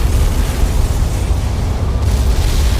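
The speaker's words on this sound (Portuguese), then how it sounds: "escutamos um poderoso estrondo quando a turbina do avião explodiu" A powerful blast as an airplane turbine explodes, staged as an audio-drama effect: a loud, sustained roaring boom fills the whole stretch with dense low rumble and no break.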